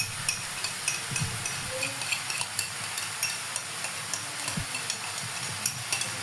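Tofu sisig being stirred and mixed in a hot pan, with steady scraping and soft sizzling running continuously under faint background noise, punctuated by a few louder knocks of the utensil.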